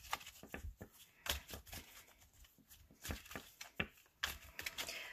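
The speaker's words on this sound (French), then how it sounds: "Je vais tirer 3 cartes." Oracle cards shuffled and drawn by hand in a quiet room, giving a series of soft papery flicks and slaps with irregular rhythm, close and fairly faint, no talking.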